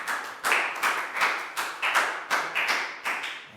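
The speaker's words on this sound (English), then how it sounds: "High five and a big round of applause for Lakgao" Children clapping in a primary classroom phonics lesson: about nine quick, even bursts of applause, close and fairly loud, with no talk over them.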